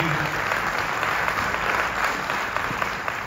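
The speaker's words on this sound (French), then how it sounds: "Vous pouvez l'applaudir" An audience claps steadily as a speaker joins the stage, a continuous close wash of applause without pauses.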